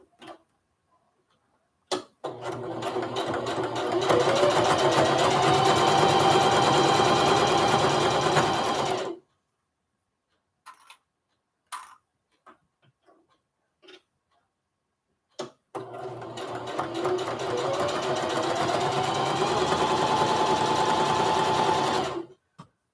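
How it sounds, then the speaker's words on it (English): A sewing machine topstitching a lunch tote handle, two long loud runs of steady whirring separated by a quiet stretch of small clicks and handling. "do another row of top stitching on it"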